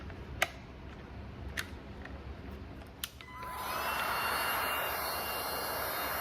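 A heat gun switches on partway through and blows steadily at close range against a wet, water-soaked crushed furniture corner, a loud continuous airy whir after a few faint clicks.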